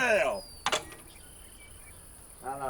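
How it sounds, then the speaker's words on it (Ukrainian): Cicadas chirr at a summer outdoor setting, a steady high insect buzz that runs beneath the scene, with brief voices at the start and end and a sharp click near the beginning. "Кляті цикади."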